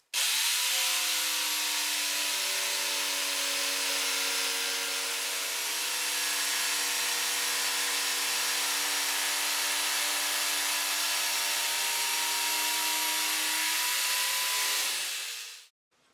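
Jigsaw making a 90-degree cross-cut through a wooden rafter tail, a steady buzzing whine that runs evenly for about fifteen seconds and then stops abruptly.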